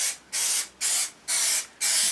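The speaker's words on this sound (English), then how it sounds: "Spray it on like a normal paint" Plastidip aerosol spray can applied to test pieces in a garage: four steady hissing bursts of about half a second each, separated by short pauses, close and fairly loud.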